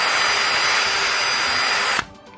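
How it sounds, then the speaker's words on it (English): A power drill whines loud and steady for two seconds while boring holes in the plastic belly pan of a 2016 Ford Focus ST, then stops abruptly, leaving quiet workshop background. "Now we got to drill the holes in it."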